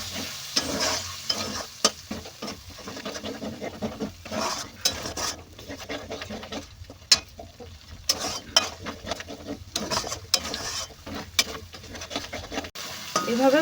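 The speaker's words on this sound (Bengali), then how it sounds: "এবার আদা, লঙ্কা আর টমেটোর পেস্টটা দিয়ে দেব। আবারও একটু কষিয়ে নেব।" Ginger, chilli and tomato paste being sautéed in a pan for shahi paneer, a soft sizzle broken by frequent scraping and clattering strokes of a spatula against the pan.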